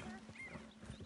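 Hooves clip-clop in a quick, brief run of hoofbeats, fairly faint, with a horse snorting, in the video game Red Dead Redemption 2.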